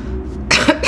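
A sick person coughs twice in quick succession, loud and close, after a low-level quiet stretch with no talking.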